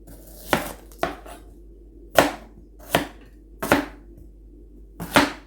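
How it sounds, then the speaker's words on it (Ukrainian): Knife chopping onion on a board while preparing a gravy for a vegetarian zucchini dish, six separate sharp chops spaced irregularly, close and clear with no talk. "Цибулинку порізали."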